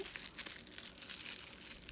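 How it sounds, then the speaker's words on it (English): A plastic bag crinkles steadily as it is pulled off a craft egg from a dragon egg kit, a soft, continuous rustle close to the listener with no talking. "unwrap your egg, because obviously you can't decorate it if it's in a plastic bag"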